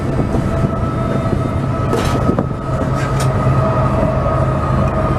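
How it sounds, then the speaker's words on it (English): A nearby train rumbles steadily past, with a low mechanical drone, faint clanking, and a couple of brief squeals. "I have a train right next to my house"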